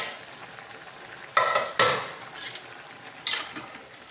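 Chicken pieces sizzle in a pan for pepper chicken gravy under a steady soft crackle, with a few sharp clattering stirs of a utensil against the pan close by.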